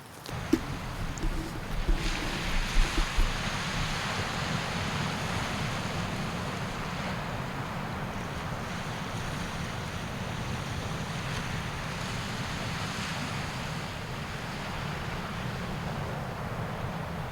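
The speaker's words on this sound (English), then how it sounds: "Some pretty surfable looking waves out there, eh?" Steady roar of ocean surf with wind buffeting the microphone, a continuous wash of waves without distinct breaks.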